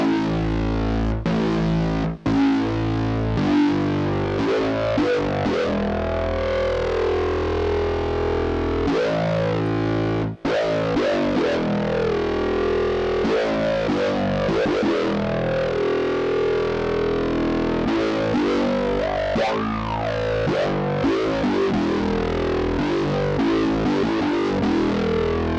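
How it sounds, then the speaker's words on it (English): Heavily distorted talking bass synth from Arturia Pigments, loud and continuous, with vowel-like morphing wah sweeps that change shape over a long run of notes, with no talking. "quite disrespectful and talking bass, distorted"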